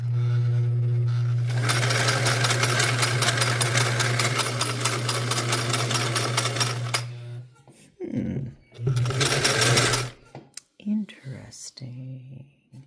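A Singer 348 sewing machine with the scallop cam engaged runs a test seam at a 10 to 12 stitch length, whirring loudly and steadily for about six seconds, then stopping and giving a shorter burst under a low hum.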